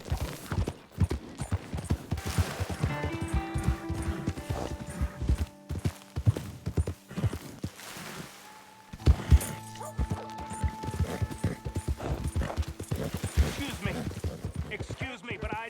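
Horse hooves clip-clop at a steady galloping rhythm in Red Dead Redemption 2, loud and close, layered with game music tones and occasional background sounds.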